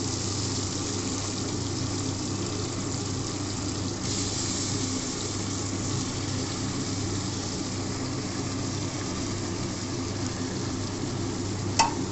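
Aar fish pieces fry in a pan as fish curry is prepared, a steady broadband sizzle running throughout with faint stirring and one brief sharp clink near the end, and no voices.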